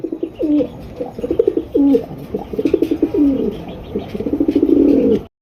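Paik dobash racer pigeons coo up close in loud, repeated pulsing phrases, each rolling burst following the last with short gaps, ending in a long throbbing call.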